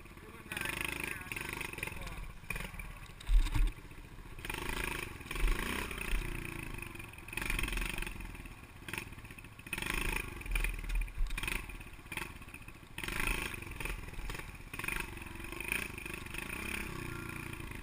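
A Suzuki DRZ 110 dirt bike engine buzzes and revs unevenly during a slow wheelie, recorded close on a GoPro, with rises and dips in throttle plus occasional clattering knocks.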